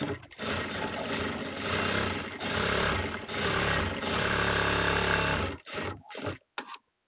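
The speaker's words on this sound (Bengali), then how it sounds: "এখন আপনি এখানে একটা সেলাই দিবেন এক চাপে এবং এখানেও একটা সেলাই দিবেন" Sewing machine stitching a gathered sleeve design in two short passes, a steady motor whir running for several seconds, then breaking into brief stops and starts at the end.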